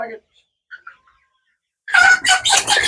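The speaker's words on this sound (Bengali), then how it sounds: "একটা মুরগি ধরার জন্য চেষ্টা করতেছে পারতেছে না" Sonali chickens on a poultry farm, about forty days old, burst into loud, close, frantic squawking and clucking as one is caught, following a few faint earlier clucks and near silence.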